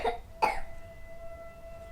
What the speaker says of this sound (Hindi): इसको खांसी हो रही है